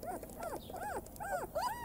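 Eighteen-day-old German shepherd puppies squeak and whimper in a run of high, rising-and-falling cries, several overlapping pups calling close by with short gaps between yelps.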